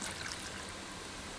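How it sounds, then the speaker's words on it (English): Half a cup of water is poured into a marinade bowl for red wine chicken, a brief, soft, steady trickle heard close up and alone. "I'm gonna add about 1/2 cup of water."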